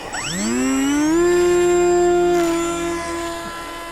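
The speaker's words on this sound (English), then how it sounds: "I'm just gonna throttle up and pull back." Electric motor of an FT Explorer RC plane throttling up for a maiden takeoff, a rising whine that sweeps upward within the first second, then holds as a loud, steady high-pitched drone before easing slightly.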